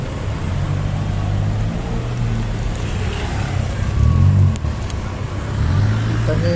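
Steady road traffic in a jam where a motorcycle is stuck under a bus: engines idle and rumble close by, with a vehicle revving and swelling louder partway through, and no voices heard.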